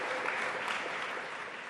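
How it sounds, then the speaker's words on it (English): Scattered applause from an audience at a panel discussion during a general assembly gathering, a steady broadband patter of hands held at moderate, fairly faint level throughout with no talking. "You can clap, that's okay."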